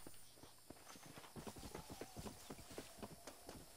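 Horse hooves clip-clop in a quick, uneven rhythm on the ground in Red Dead Redemption, close and fairly quiet, a run of sharp knocks with no speech.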